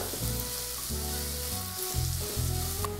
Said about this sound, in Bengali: তেল গরম হয়ে গেছে আমি তেলে পেঁয়াজ কুচিগুলো ছেড়ে দিচ্ছি একটু ভেজে নেব পেঁয়াজগুলো